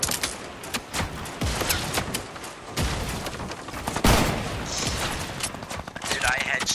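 Rapid video game gunfire crackles in dense volleys of sharp shots and booms, loud and continuous, with people talking over the shooting.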